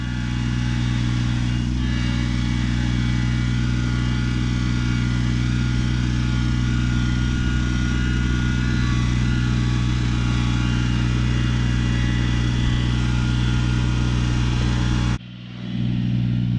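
A Kubota BX2380 compact tractor engine labors uphill while clearing storm damage, a loud, steady, close drone that holds constant and then cuts off abruptly near the end, with no voices.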